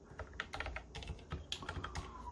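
Typing on an Mstone Groove T87A mechanical keyboard with silent black switches, muted, soft keystrokes in uneven bursts, close and fairly quiet with no voice.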